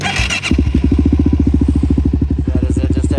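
A Suzuki LTZ 400 ATV fitted with a full HMF exhaust cranks and fires up, then settles into a loud, steady, rapidly pulsing engine burble close by, with no talk over it.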